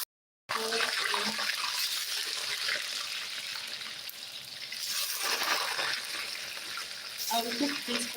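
Potatoes dropped into hot oil hiss and sizzle continuously in a home kitchen, a steady bright crackle that swells at times, with a brief silence before it starts.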